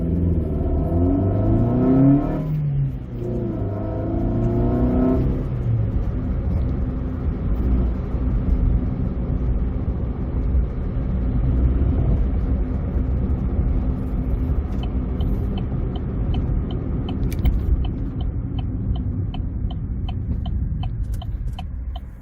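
A car engine revs hard on a busy town main street on a Friday night, a loud sustained roar with rising and falling pitch early, then a steady throbbing drone with faint ticking toward the end, no talking.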